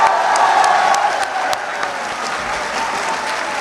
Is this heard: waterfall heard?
no